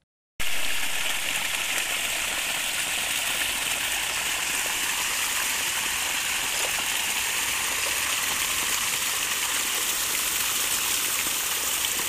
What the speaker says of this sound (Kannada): ಅಂತರ್ಜಲ ಮಟ್ಟವು ವೃದ್ಧಿಯಾಗಿರುವುದರಿಂದ ಕೊಳವೆ ಬಾವಿಯಲ್ಲಿ ನೀರು ಮೇಲೆ ಬರಲು ಆರಂಭವಾಗಿದೆ